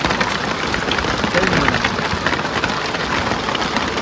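Steady rain falls during a fishing trip in hot weather, a dense continuous hiss of drops on surfaces, even and close throughout.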